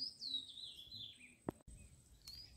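Faint bird calls drift through the Sundarbans forest beside a river bank: a thin, high whistled call that slides downward, another brief call near the end, and a single sharp knock in the middle, all very quiet.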